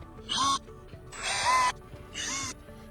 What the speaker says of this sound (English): So this is 3mm plate, so it's quite thick for a hand drill.